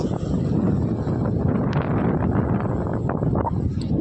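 Strong, steady wind buffets the microphone with a continuous low roar and rumble, gusting without break at an open shoreline.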